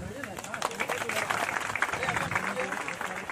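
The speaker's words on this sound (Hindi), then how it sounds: "तालियों से इनका भी स्वागत किया जाए।" An audience at a martyrdom day commemoration in Ranchi claps to welcome guests, dense uneven applause mixed with crowd chatter and voices talking over it.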